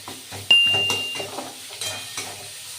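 Cauliflower paste is stirred in a frying pan with a spoon, giving repeated close scraping strokes over a soft, steady sizzle, with no talking.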